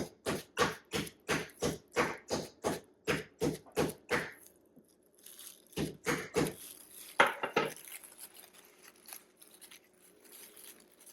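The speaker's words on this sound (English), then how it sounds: "I've got my kitchen mallet, and I'm going to hammer it out nice and thin." Kitchen mallet pounding venison steak under plastic wrap on a board, about fifteen rapid, evenly spaced dull thuds, then a pause and a few scattered blows and clatters, close by.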